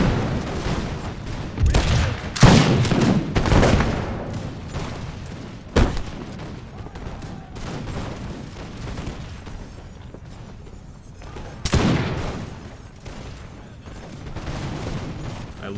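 Musket volleys in Imperial Splendour, a Napoleonic-era Revolutionary France battle game, as ragged fusillades of massed gunfire, with loud rolling crackles and booms at intervals and quieter distant shots in between.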